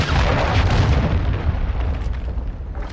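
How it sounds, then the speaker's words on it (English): A cruise missile explosion in Modern Warfare 2 booms loud and close, a sustained deep rumble that slowly decays over about three seconds, with no talking. "Friendly cruise missile deployed."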